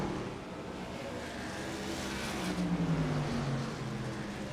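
Racing trucks at North Wilkesboro in a racing video game roar past, their engine notes sliding down in pitch as they pass, over a steady bed of track noise.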